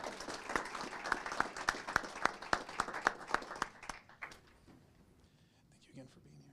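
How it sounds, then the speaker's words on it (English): Guests are welcomed at a Moreno Valley city council meeting with sparse, evenly spaced claps from a small group in a quiet chamber. The clapping fades after a few seconds into low room murmur. "please join me in a big round of applause"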